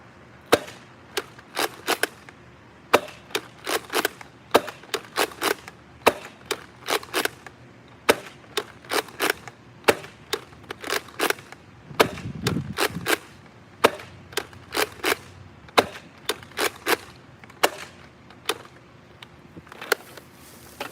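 Nerf blasters firing foam darts in a long run of sharp, snappy pops, some in quick bursts and others spaced out, loud and close with brief gaps between shots.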